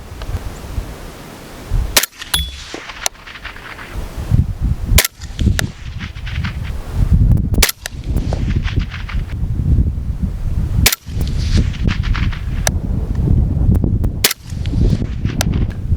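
Five-five-six rifle fired through a Resilient Simple Man suppressor outdoors: loud, sharp suppressed shots spaced a second or more apart, each a hard crack with a short tail, over constant background noise.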